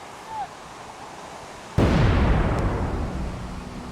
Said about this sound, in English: that ship just shot a cannon a minute ago